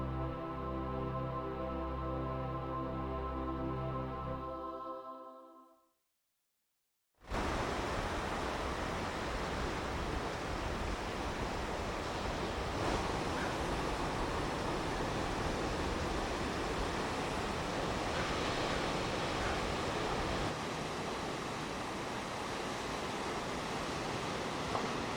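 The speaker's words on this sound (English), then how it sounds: "spectacular waves break against the sandstone cliffs." Ocean waves break against the sandstone cliffs at Shore Acres near the mouth of Coos Bay on the Oregon coast, a steady broad roar that follows a brief stretch of music and a moment of silence.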